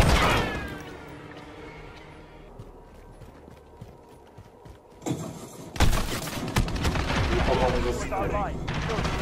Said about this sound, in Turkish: Kafamıza sıkıyor.